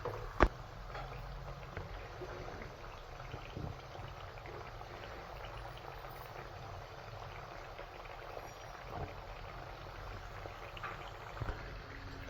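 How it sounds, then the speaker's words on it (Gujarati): Ivy gourd (tindora) frying over high flame in hot oil in a pan, a soft continuous sizzle and bubbling with a few faint clinks, quiet and without speech. "તેની અંદર પહેલાં ટીંડોળી ફ્રાય કરીશું"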